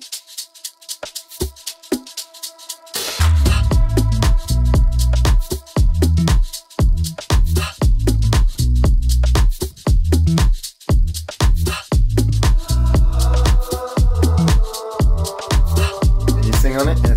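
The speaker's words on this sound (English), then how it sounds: "Behold the power of the salt shaker." A salt shaker drives a funk groove: loud rhythmic pulses over a steady beat with repeated bass-heavy hits and dense layered accents, after a sparse quieter opening.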